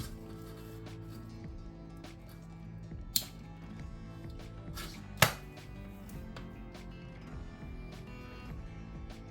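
A delay relay in a home automatic transfer switch built with TOMZN and GEYA parts switches on, giving two sharp, isolated clicks a couple of seconds apart over a low, steady electrical hum.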